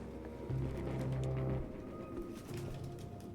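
Pigeons coo in the video game Detroit: Become Human, several low, soft throaty calls in overlapping runs against a quiet room background.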